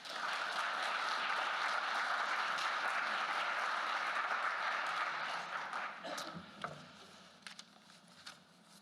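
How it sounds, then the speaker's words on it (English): Conference audience applause welcoming a speaker to the stage, a dense, sustained wash of clapping from a crowd that thins out and tapers into scattered claps near the end. "Please help me welcome Joe to the stage."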